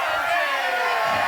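A race crowd roars and cheers at a racing event, a loud sustained wash of many voices with no break.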